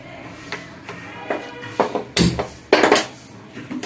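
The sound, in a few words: black pepper being dry-fried in a pan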